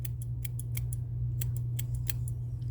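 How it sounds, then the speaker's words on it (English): Old, dull metal scissors snip in a quick irregular series of about a dozen sharp crisp cuts over a steady low hum, with no voices. "Oh my gosh, look how dull these scissors are."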